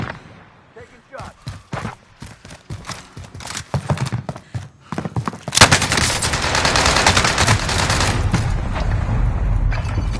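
Gunfire in a military shooter game starts as scattered single shots and short bursts, then erupts into a loud, dense, continuous barrage of automatic fire and booms, with voices speaking over it.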